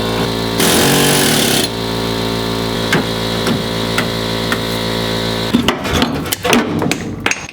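A pneumatic air hammer loudly rattles against a rear shackle bolt on a Chevy truck in a short, harsh burst, then a steady mechanical hum continues, ending in a cluster of sharp metallic clanks.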